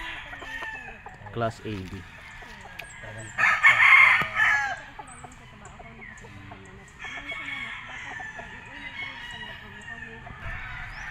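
A McLean bull stag gamefowl rooster at a gamefarm lets out one loud, close crow midway, with scattered clucks before and after, while someone talks over it.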